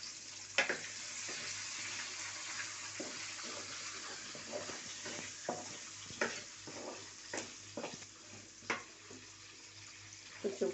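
Large onion chunks frying in a pan, a soft continuous sizzle broken by irregular clinks and scrapes of stirring, fairly quiet and close.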